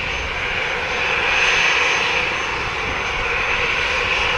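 Delta airliner on the runway at Montego Bay, Jamaica, preparing for departure: a steady, loud broadband engine roar holds throughout with no talk, a continuous jet-engine rumble close by.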